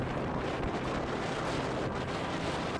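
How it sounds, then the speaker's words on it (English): Strong, steady wind roaring during a Mount Everest expedition: a loud, continuous gusty rush that buffets the microphone, with no voices. "The team could barely stay upright in the gushing wind."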